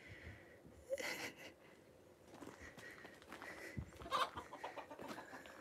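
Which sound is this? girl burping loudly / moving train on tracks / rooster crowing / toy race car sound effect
rooster crowing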